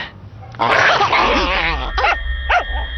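A dog in a film gives a loud, close bark, then a couple of shorter yips and whines, all within a few seconds, with a voice mixed in.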